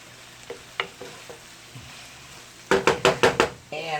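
Onions and vegetables being sautéed in an Instant Pot for Guinness corned beef and colcannon: faint sizzling under a series of sharp spoon knocks and scraping stirs that grow louder near the end.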